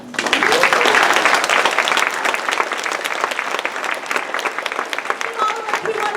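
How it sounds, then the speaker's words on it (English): A school audience applauds at a Veterans Day concert, dense and loud at the start, then holding steady as a sustained wash of clapping from a crowd nearby. "one more big round of applause"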